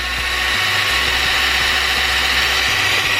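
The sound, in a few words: New Bright Reaper RC truck motor at full throttle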